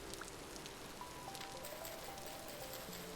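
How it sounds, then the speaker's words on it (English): Steady, soft rain hissing on surfaces in the video game Vintage Story, a continuous even patter with faint tonal game sounds drifting underneath. "It's very rainy. Rain in this area seems to be very common."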